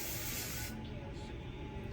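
Hairspray hisses from an aerosol can in one sustained burst close up, then cuts off, leaving a quieter background.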